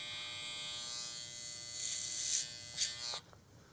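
Electric shaver buzzing steadily and close during a barbershop haircut, a high continuous hum with brief scraping surges near the end before it cuts off, no voices.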